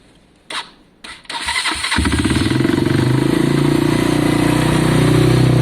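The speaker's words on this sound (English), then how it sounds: "Let me fire this bike up" A motorcycle engine starting up close by: two brief cranking bursts, then the engine catches and settles into a steady, loud, even idle, with no talk.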